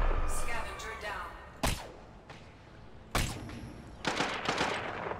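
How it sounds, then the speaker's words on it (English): Gunfire in the video game Deathgarden Bloodharvest comes as several sharp, loud bursts separated by short pauses, with a denser cluster of shots near the end over background game sound. "Seriously, all those shots, not a single one made contact."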